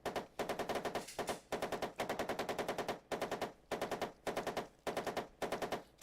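Machine-gun fire in the Armoured Commander II tank game comes in repeated short, rapid bursts separated by brief gaps, each burst a fast string of sharp cracks, loud and close.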